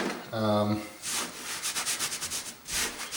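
A drywall patch being hand-sanded with quick rhythmic rubbing strokes, close and moderately loud, after a brief tonal hum at the start.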